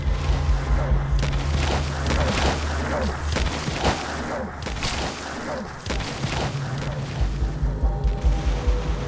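Cover-fire explosions and gunfire in Metal Gear Solid V: The Phantom Pain, with repeated booming blasts and mechanical clatter over a steady low drone, fairly loud and continuous throughout.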